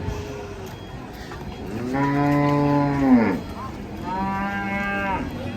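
Cattle mooing loudly and close by, two long drawn-out moos in a row with a short gap between them, over a low background rumble; cattle refusing to board a truck.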